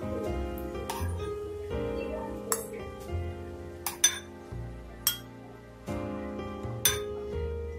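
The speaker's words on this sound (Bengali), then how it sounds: "আমি অন্য একটা বাটিতে নিয়ে নিচ্ছি।" Sharp clinks of dishes and a bowl being handled in a kitchen while bread gulab jamun is moved into a new bowl, several separate ringing taps spaced a second or so apart, with music playing underneath.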